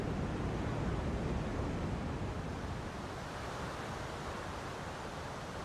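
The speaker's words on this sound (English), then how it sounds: "that and the roaring of the waterfall tells them all they need to know about its enormous power." Roaring of a large African waterfall, a steady, loud, unbroken wash of broadband noise that holds evenly throughout with no voices.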